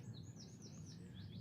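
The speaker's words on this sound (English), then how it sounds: "You can hear the bird song in the background." Birds chirp and trill softly in the background at a cricket ground during a Senior 2 Cup match, thin high calls over a steady low outdoor rumble, distant and faint with no speech.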